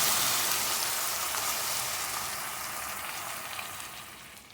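A paste of ground onion, tomato, ginger and garlic fries in a pan for chicken kurma, giving a steady broadband sizzle that is loud at first and eases slightly toward the end, with no voices.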